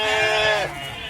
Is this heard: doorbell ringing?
no